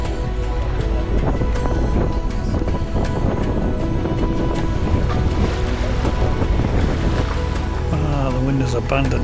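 Rough, choppy sea sloshing around a Westerly Seahawk 35 sailboat on a windless, foggy day, a steady loud wash of water with wind buffeting the microphone and faint voices under it.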